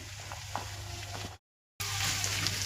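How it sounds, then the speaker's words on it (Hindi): Cabbage and capsicum frying in a hot pan sizzle steadily, broken by a short silent gap before the hiss returns louder and brighter. "कैबेज डालने के बाद शिमला मिर्ची को भी डाल देंगे"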